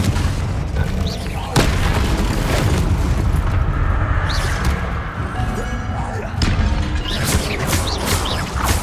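A Confringo fire spell blast in a Harry Potter video game: loud booming explosive hits with sharp crashes at the start and again near the middle and end, over a dense rumbling game soundscape, with a voice calling out between blasts.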